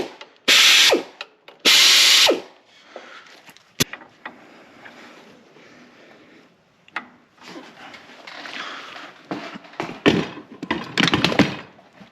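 A hand ratchet works on parts of a 12 valve Cummins engine, with two bursts of fast, loud clicking near the start, then scattered metallic clinks, handling knocks and more clicking bursts toward the end.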